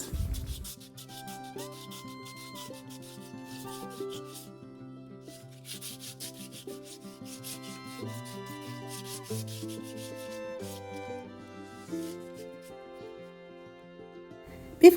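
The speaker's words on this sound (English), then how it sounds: "it's time to sand it down. I recommend 120 grit sandpaper for a perfectly smooth" Sandpaper of 120 grit rubs over dried filler on a skirting board in slow, quiet, repeated strokes, while a soft tonal background hum runs underneath.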